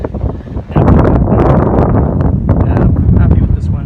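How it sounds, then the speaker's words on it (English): Heavy wind buffets the microphone outdoors on a windy day while pike fishing, a loud continuous low rumble with gusty swells throughout, nearly drowning out a voice. "hopefully we don't get too much wind noise here. It's a really windy day."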